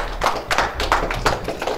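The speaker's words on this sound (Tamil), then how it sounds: "ஒரு பெரிய கைத்தட்டல் கொடுத்துடலாம் அவருக்கு" Hands clap in a sparse, rhythmic series of distinct claps, about six or seven sharp hits at a moderate level, acknowledging a speaker at an anchor-hunt event, with no talk over them.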